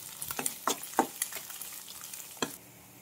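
Chicken noodles roasting in oil in a pan are stirred, giving a run of quick scraping strokes over a quiet background sizzle, several close spatula scrapes in irregular rhythm before a final stroke and stillness.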